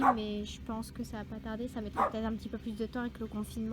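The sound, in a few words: dog barking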